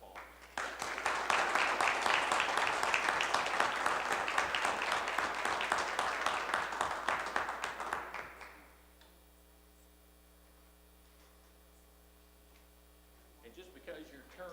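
Applause from the audience at a city council meeting, a full, steady round of clapping lasting about eight seconds before stopping abruptly, leaving only a faint electrical hum and a brief stir of sound at the end.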